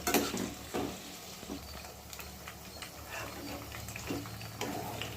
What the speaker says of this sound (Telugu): ఆయిల్ వేడైన తర్వాత వంకాయలు డీప్ ఫ్రై చేసుకోవాలి.